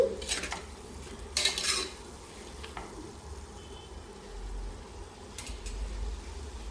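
Spoon stirring tomatoes into a curry in a pan: a few scattered scrapes and clinks against the metal over a low background hum, faint and close, with no speech.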